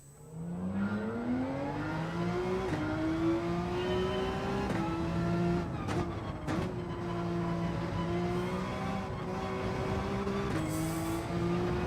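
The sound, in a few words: Porsche engine revving in Gran Turismo 7 video game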